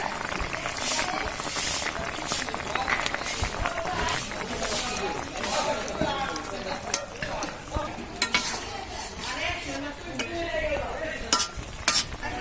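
Cumin seeds sizzling in hot oil give a steady, close crackle, with a utensil stirring and clinking against the pan now and then and a voice talking over it.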